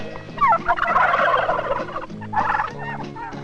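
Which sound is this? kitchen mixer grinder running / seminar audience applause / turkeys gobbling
turkeys gobbling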